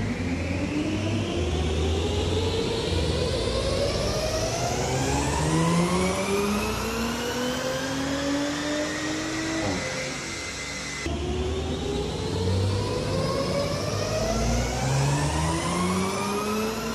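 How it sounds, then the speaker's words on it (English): Stage 1 tuned Audi B9 S5 with the 3-litre TFSI engine, run on a dyno: two loud, sustained full-throttle pulls, each climbing steadily in pitch as the revs rise, with a brief drop between them and no voices. "So, we'll show you the dyno runs,"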